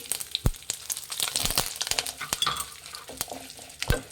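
Mustard seeds, dried Byadgi chillies and curry leaves sizzle in hot oil for a South Indian sambar tempering. A steady close crackle runs under sharp pops and a few utensil clicks and stirs, with no talk.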